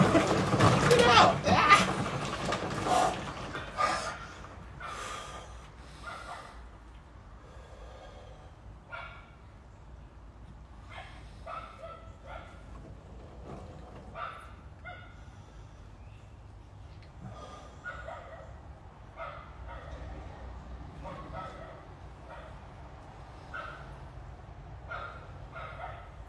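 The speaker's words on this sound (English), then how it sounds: "Hey, a yappy dog over there." A small dog yaps in short, sharp bursts at a distance. The barks are faint and scattered and follow a loud splashing stretch at the start, while someone talks nearby.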